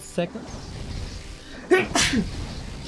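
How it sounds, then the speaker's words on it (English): A single sharp human sneeze, brief and close, followed by a short spoken word during a Warcraft III tournament broadcast with game sounds low in the background. "Bless you."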